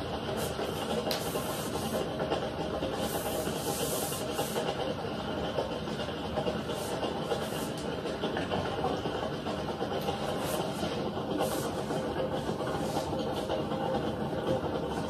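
Steady hiss of a handheld steamer played over the soft, wavy brim of a fedora hat, continuous and fairly close, with a faint mechanical hum underneath and no talking.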